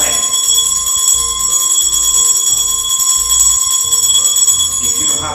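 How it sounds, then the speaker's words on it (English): A ritual bell rings continuously at close range, rapid bright strikes blending into a sustained shimmering tone that stops near the end. "Me, I like to use the bell, like I told you, to activate the energy power, to activate the spirit."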